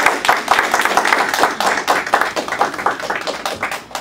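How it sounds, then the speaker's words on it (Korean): A church audience at a Korean-language gathering applauding to welcome speakers: a short, close burst of irregular hand clapping with distinct individual claps that thins out toward the end, with no talk over it. "우리 나오실 때 뜨거운 박수로 환영하시겠습니다."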